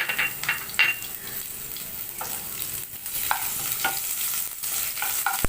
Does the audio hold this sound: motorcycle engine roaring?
no